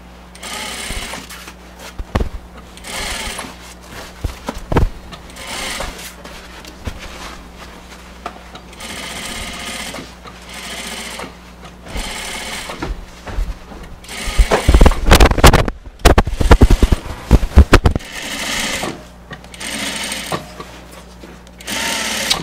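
An upholstery sewing machine stitches fabric for a rollover arm cap all the way around, running loud and close in repeated bursts with short pauses, a busier stretch in the middle, and no talking.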